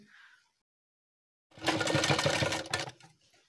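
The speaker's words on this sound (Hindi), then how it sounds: "अब हमें सिलाई लगानी है" A sewing machine runs in one short close burst of rapid stitching, sewing a zip onto a pajama side pocket; quiet room before and after.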